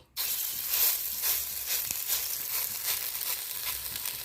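Spoonfuls of pumpkin flower pakora batter drop into hot oil in a kadai and fry with a close, loud, continuous sizzle and hiss that starts abruptly and holds steady.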